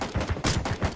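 Rapid bursts of gunfire in a shooter video game, loud and close, repeating in quick volleys across a single second.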